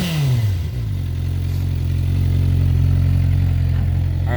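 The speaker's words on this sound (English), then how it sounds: "Give you a little exhaust note here." Light motorcycle exhaust note, a quick rev that drops back to a steady, loud close-up idle burble with slight clatter, no voices.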